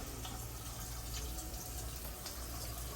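Water runs steadily from a kitchen tap before a Lamon LW-03 countertop filter is switched in, a constant close splashing stream with no pauses and no voices.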